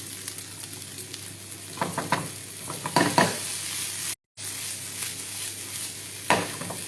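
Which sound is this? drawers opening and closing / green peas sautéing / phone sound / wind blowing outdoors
green peas sautéing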